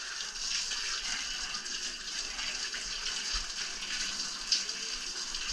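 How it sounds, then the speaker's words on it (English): Steady wash of running water from a hose rinsing out a box, a continuous even hiss with no pauses and no talking. "hose out the box"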